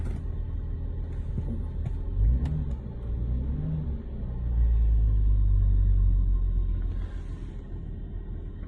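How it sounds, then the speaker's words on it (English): A Bentley Continental GT engine idles with a low rumble, then revs in a couple of short bursts before a longer, deeper rev that settles back down. "sounds really good. I'll rev it."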